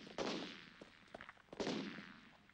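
Gunfire in a film scene, two sharp bursts of shots about a second and a half apart with a few scattered cracks between, fairly faint and distant.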